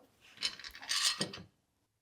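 A clamp is fitted onto a continuous-grain wooden gift box, giving a short burst of ratcheting mechanical clicks and scraping for about a second and a half, close and fairly faint, then silence.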